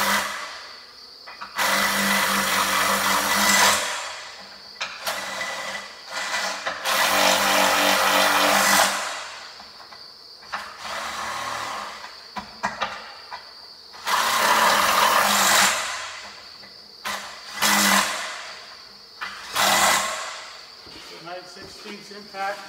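A 9/16 impact wrench tightens bolts on a honey wax separator, coming as several loud mechanical bursts separated by short pauses, close by.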